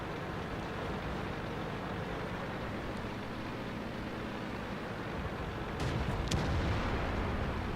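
Tank cannon fire in the online game World of Tanks: a low background hum, then a couple of sharp blasts near the end, no talk.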